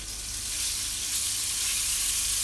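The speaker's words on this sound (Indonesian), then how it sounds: "Tumis bawang putih dan bawang bombay sampai benar-benar harum banget" Garlic and onion sautéing in a Cosmopan non-stick wok give a dense, even sizzle that holds steady and close from start to finish, with no voices.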